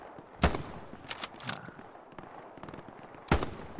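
Gunfire in the video game Hell Let Loose during a night battle at Sainte-Mère-Église, with a weapon discharging on its own: loud sharp shots at the start and end, and a quick cluster in between, over low background rumble.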